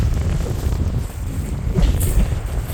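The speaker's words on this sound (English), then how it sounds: "it is kind of windy here" Gusty wind buffets the microphone outdoors beside a pond near Stephenville, Newfoundland, a steady loud rumble with rising and falling surges throughout.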